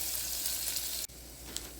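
Onion and garlic sautéing in a pan over a slow flame, a steady soft sizzle that continues alone at low volume, broken by one brief dip and a small click.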